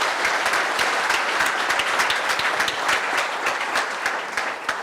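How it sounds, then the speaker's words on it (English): Audience applause for the speakers at an evening healthcare discussion event, dense sustained clapping from a crowd that holds steady for several seconds. "I just wanted to give a big hand of a big applause to our speakers."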